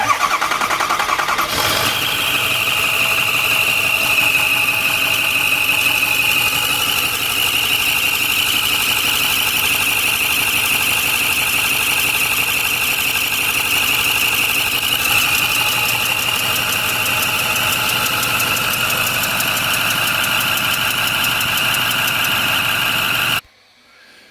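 A 2008 Ford F550 with a 6.4 diesel engine and a rocker arm failure cranks and starts, then idles steadily and loudly up close for over twenty seconds before cutting off abruptly.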